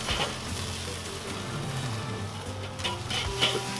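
Ground meat for sloppy joes sizzles in a cast iron skillet, a steady, fairly quiet hiss of frying heard alone without voices.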